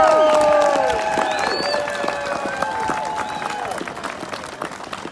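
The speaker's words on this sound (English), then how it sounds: "we need to give him a great round of applause" Rally crowd in Wisconsin gives a round of applause for Corey Tomczyk, dense clapping loud at first and then tapering off, with tonal whistles and cheers mixed in and voices murmuring throughout.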